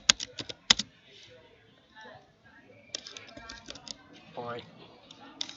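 Bursts of computer keyboard typing as commands are entered, clusters of clicks near the start and again in the latter half, with someone speaking in between.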